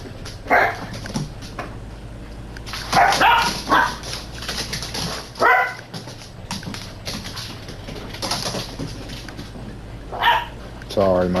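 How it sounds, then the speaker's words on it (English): Several dogs bark in bursts, some close and loud and others fainter, around someone talking steadily over them. "my dogs are going crazy again"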